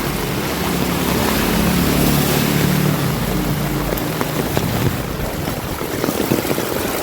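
Heavy monsoon floodwater on a Surat street makes a loud, continuous rushing, sloshing wash, close and unbroken throughout, with no clear voices.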